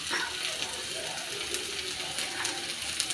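Spices with red chilli powder and turmeric sizzle in an iron pan for eggplant bharit, a soft steady hiss broken by light scraping and clicking stirs.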